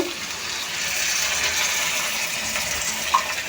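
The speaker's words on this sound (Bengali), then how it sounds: "এক কাপ পরিমাণ জল দিয়ে দিয়েছি" A continuous rush of water pouring steadily into a pan of frying prawns, broadband and even, with a small clink near the end.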